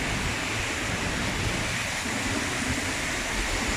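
Heavy rain pours down in Saudi Arabia as a dense, loud, unbroken hiss that holds steady throughout with no voices.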